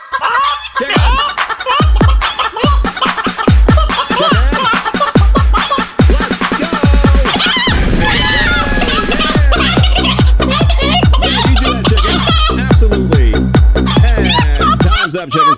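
Chickens cluck and a turkey gobbles in a loud, busy, rhythmic stream of repeated calls, close and clear, with no talking.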